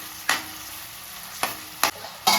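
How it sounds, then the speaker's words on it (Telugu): Onions frying in a pan until golden brown for chole curry, a soft steady sizzle broken by a few sharp scraping stirs, close and alone. "గోల్డెన్ కలర్ బ్రౌన్ షేడ్లోకి వచ్చే వరకు ఉల్లిపాయలన్నీ ఇలాగ వేగుతూ ఉండాలండి"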